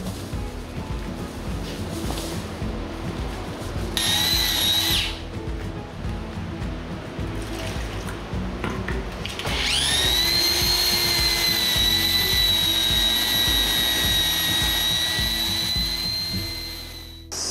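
A power drill mixes lime plaster with water for tadelakt walls during a home renovation. A short whining burst comes first, then a loud, steady, high drill whine runs without a break from the middle to the end.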